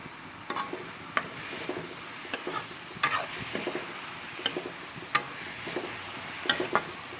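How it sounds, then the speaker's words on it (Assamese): Dhekia fern greens sizzle and crackle in a hot pan, with sharp scraping stirs at an uneven rhythm, close up and with no voices. "শাকখিনি দি অলপ দেৰি মই ভাজি থাকিম।"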